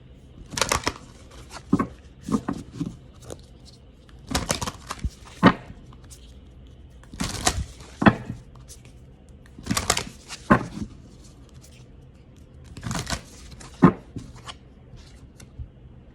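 Tarot cards being shuffled in quick, crisp bursts, several riffling flurries separated by short pauses, close and fairly quiet with no talking.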